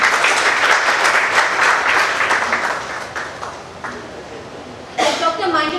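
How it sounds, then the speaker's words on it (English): Convocation audience applauding for Dr. Manjiri Patankar, a loud dense wash of clapping that gradually thins, then a sudden brief burst near the end. "I think we must give a big round of applause to"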